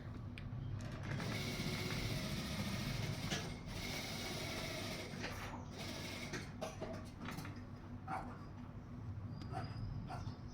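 A sewing machine with a single foot stitches piping thread, a close, continuous mechanical whirring that thins into lighter ticking and clicks toward the end.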